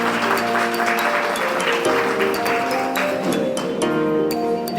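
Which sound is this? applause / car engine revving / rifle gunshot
applause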